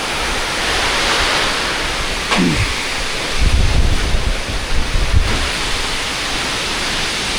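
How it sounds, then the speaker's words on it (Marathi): Loud, constant roar of strong monsoon storm wind in Konkan buffeting the microphone amid heavy rain, with a few heavier gusts rumbling midway. "वारा पण तुफान आला आहे"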